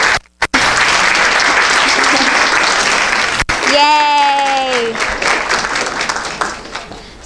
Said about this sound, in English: can we clap for those two young ladies?